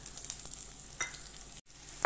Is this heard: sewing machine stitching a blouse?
no